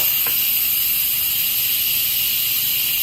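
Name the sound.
steam hissing from Instant Pot pressure release valve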